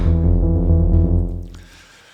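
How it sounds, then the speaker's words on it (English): A synth bass patch on a DRC synthesizer, voiced after the electric bass of a well-known song, holds one deep, buzzy sustained note that fades out after about a second and a half. "And the bass sounds like this."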